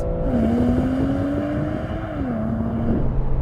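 A car in a drag race against a BMW M340i, AMG G63, Audi RSQ3 and VW T-Roc R, accelerating hard: a loud engine note climbing through revs, dipping at a gear shift, then rising again under heavy road and wind roar.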